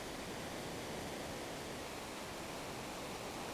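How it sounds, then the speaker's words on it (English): A big waterfall and rapids in Final Fantasy 6, heard as a constant, even roar of rushing water, broad and hissy, with no voices over it. "Big waterfall, couple rapids"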